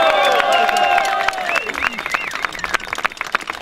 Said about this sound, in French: Alors redoublez vos applaudissements.